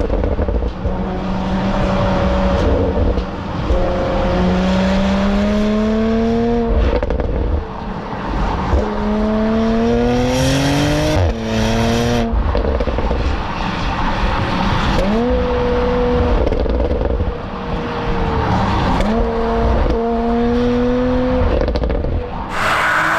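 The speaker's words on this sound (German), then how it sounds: "Und die Auspuffanlage, die plöppert auch so ein bisschen, trotz OPF." Porsche Macan GTS under way, its engine note rising and falling through gear changes with exhaust pops and crackles between pulls, loud and close throughout.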